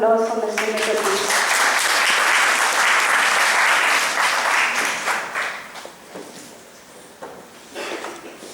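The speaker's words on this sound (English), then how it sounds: "Can we please have a round of applause for Mr. Mitter, please?" Audience applause for Mr. Mitter at a value education event, a loud sustained burst of clapping from many people that gradually thins out into scattered claps.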